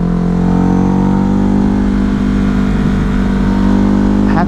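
A Ducati Hypermotard motorcycle engine drones steadily while riding, with a low rumble and wind roar throughout, loud and close, with a short rise in revs at the very end.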